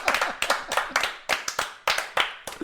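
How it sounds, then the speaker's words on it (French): A small group claps in uneven, sharp bursts, several hands clapping close by in a quick, ragged rhythm that stops and restarts, with a faint voice or two underneath. "On peut s'applaudir."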